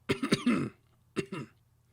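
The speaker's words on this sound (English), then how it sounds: "Apologies for the coughing." Coughing close to the microphone: a cluster of three or four harsh coughs, a short pause, then two more, loud against a quiet background with no speech.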